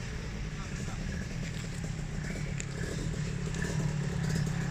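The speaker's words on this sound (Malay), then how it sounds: "Hari ini kita try motor Kawasaki Kips 150" Kawasaki Kips 150 two-stroke motorcycle engine running nearby, a low steady rumble with some clatter that swells slightly toward the end, under a speaking voice.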